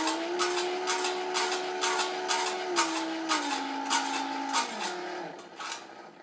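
A motorized case annealing machine turns at its slowest speed, about 4.5 seconds per rotation. Its motor hums with a steady tone, regular mechanical clicks tick along with it, and the pitch dips slightly toward the end.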